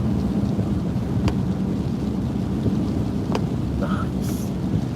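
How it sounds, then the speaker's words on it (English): Steady rain from hurricane weather hisses throughout, broken by two sharp, distant thunder cracks and a brief high-pitched tone near the end. "The rain is actually coming in. We're actually getting some of the hurricane storm"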